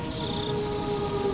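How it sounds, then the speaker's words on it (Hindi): Steady rain falls outside a hut door on a dark night, a constant even hiss with a faint tonal hum beneath it. "दरवाजे के बाहर लगातार बारिश की आवाज आती रही"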